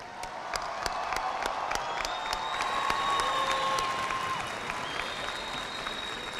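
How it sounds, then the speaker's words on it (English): A crowd at a high school graduation ceremony applauds the graduating class, a steady, fairly distant clapping with scattered cheers and whoops, and thin whistle-like tones drifting over the top. "please give a round of applause for Martin High School class of 2023"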